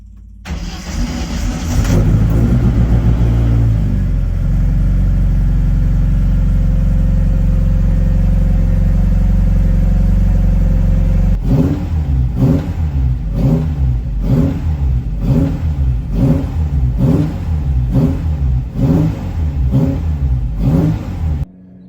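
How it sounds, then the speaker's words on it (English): Vintage Alfa Romeo GTV engine cranking and catching, then holding a loud, steady warm-up idle before settling into rhythmic pulsing revs, close up with no talk. "figured I might as well fire this thing up, warm it up, and change the oil."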